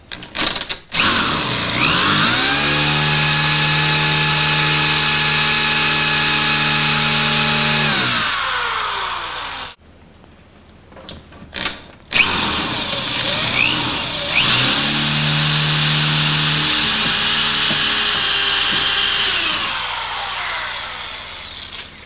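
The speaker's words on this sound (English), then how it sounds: "I'm going to see if I can drill right above that." A DeWalt power drill drilling into a lock whines loudly at steady high speed for several seconds, stops briefly, then spins up again for another long, grinding run close by.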